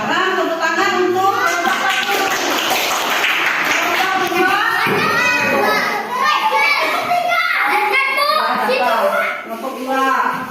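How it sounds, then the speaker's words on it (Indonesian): A classroom of children claps for a group of classmates, scattered hand clapping mixed with lively overlapping child chatter throughout. "sekarang tepuk tangan untuk"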